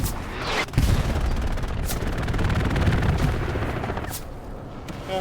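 Loud, rapid machine gun fire in the World War II shooter Hell Let Loose, a sustained close burst of fast rattling shots with a few heavier bangs, heard on its own without talking.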